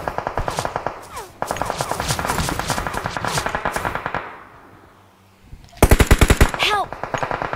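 Rapid automatic gunfire in a shooting video game: long loud bursts of fast repeated shots, a brief lull, then another sharp burst with ringing shell-like pings at the end.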